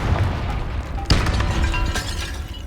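A Confringo blasting curse from Hogwarts Legacy detonates with a sharp booming crack, then a second burst as debris shatters, all heavy and close over dense low rumbling game ambience.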